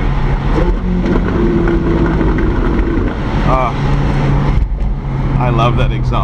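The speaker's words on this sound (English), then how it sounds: "I love that exhaust." A car's exhaust at an autocross event drones and revs in the background, steady and moderately loud under continuous talking.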